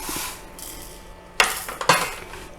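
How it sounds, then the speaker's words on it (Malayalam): A cup of moong dal poured into a pan on the stove for a sadya parippu curry, with a couple of sharp rattling clinks and a brief dry scatter of lentils against the metal. "ഒരു കപ്പ് ചെറുപരിപ്പാണ് എടുത്ത് വെച്ചിരിക്കുന്നത് അത് ഈ പാനിലേക്ക് ഇട്ട് കൊടുക്കാം"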